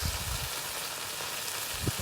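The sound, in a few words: stir fry sizzling in a pan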